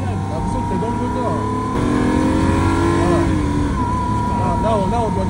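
Lamborghini Aventador SV V12 engine droning loudly from inside the cabin, with rising and falling rev sweeps and a steady low rumble under people talking throughout.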